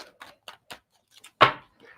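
A deck of tarot cards shuffled twice by hand, crisp close riffling and tapping in short bursts with a louder snap near the end, nothing else heard.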